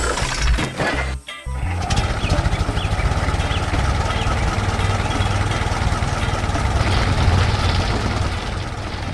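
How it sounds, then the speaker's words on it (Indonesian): A purple tractor works hard in a farm field, its engine churning in a loud, steady low rumble with a brief dip near the start before droning on continuously. "Traktor ungu bekerja keras di ladang"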